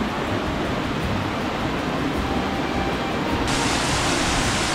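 A waterfall in the wild Lithgow mountains roars as a steady, loud broadband rush, continuous and close with no voices, growing slightly brighter and louder toward the end.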